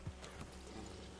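Horse hooves clip-clopping in Red Dead Redemption 2, faint and fairly distant, with a brief louder knock at the start and then a soft, even trotting rhythm.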